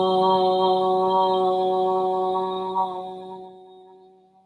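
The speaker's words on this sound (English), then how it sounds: "And I'm going to close us with the sound of 3 ohms." A single sustained chanted Om tone closes a yoga session, a steady low voiced hum with rich overtones that holds and then fades out, heard alone and close.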